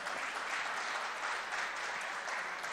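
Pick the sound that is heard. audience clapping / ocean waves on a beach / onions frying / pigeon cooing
audience clapping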